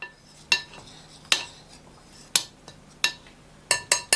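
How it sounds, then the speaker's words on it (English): A utensil stirring heated fresh cow's milk mixture in a bowl, giving about seven sharp clinks against the side at uneven intervals, close and fairly loud over a quiet background, with no talk. "So I'm just going to stir this up"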